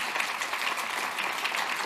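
Steady applause from an audience after a political speech in France, dense and continuous clapping filling the whole moment with no voices standing out.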